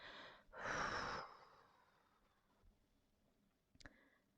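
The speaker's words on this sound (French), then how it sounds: "Et soufflez doucement par la bouche pour le diffuser dans tout votre corps." A slow, soft exhale through the mouth during a guided relaxation exercise, heard as one breathy rush that fades out gently, followed later by a few faint clicks.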